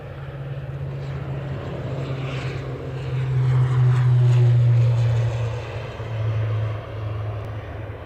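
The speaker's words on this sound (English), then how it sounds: "Loganair is taking off now." A Loganair airliner takes off at Aberdeen airport, its engine and propeller drone swelling to a loud peak midway and easing off, heard at a distance.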